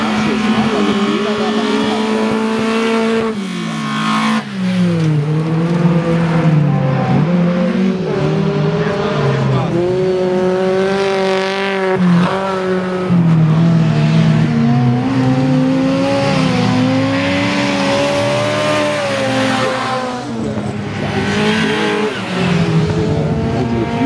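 Race cars at the NAX-CUP race in Mölln, among them a blue VW Golf approaching a curve, with engines revving and droning continuously, rising and falling in pitch through the gears, under a commentator talking throughout.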